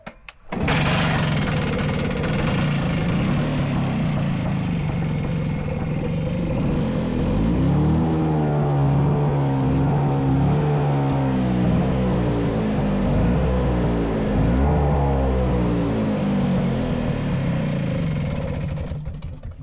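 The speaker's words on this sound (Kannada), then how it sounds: "ನೋಡಿದ್ರಲ್ಲ, ನಾನು ಹೇಳ್ದಂಗೆ ಒಂದೇ ಕಿಕ್ಕಲ್ಲಿ ಸ್ಟಾರ್ಟ್ ಆಯಿತು." A motorcycle starts on a single kick, then a loud, close engine settles into a steady idle with a rhythmic, pulsing beat that carries on to the end.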